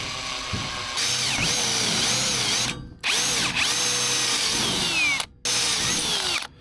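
A power drill unscrewing a fastener runs in three loud, sustained bursts, each ramping up and winding down with brief pauses between, close to the microphone.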